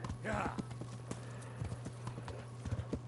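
Hooves of Pebbles, a horse in the game Kingdom Come: Deliverance, clip-clop in an irregular walking rhythm at moderate distance, with a brief whinny-like sound early on and no spoken words.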